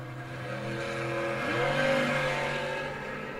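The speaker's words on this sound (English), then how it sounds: "Jamie Malaner out of Giroux, Louisiana in the S10 truck" Chevrolet S10 drag-racing truck at a drag strip event revs steadily with a droning engine note that climbs in pitch midway, loud and continuous with no talking.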